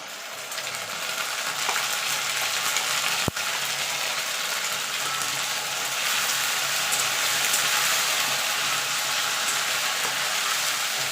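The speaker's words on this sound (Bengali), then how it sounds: "আদাটাকে একটুখানি নাড়াচাড়া করে নেব যাতে আদার কাঁচা গন্ধটা চলে যায়" Grated ginger and green chili fry in a pan with a steady, dense sizzle like rain, with one sharp knock partway through as it is stirred; no talking.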